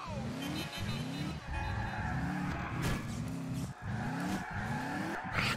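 A car in Grand Theft Auto running under Xbox 360 emulation revs and skids continuously, engine notes climbing and dropping repeatedly while tires squeal, loud and steady throughout.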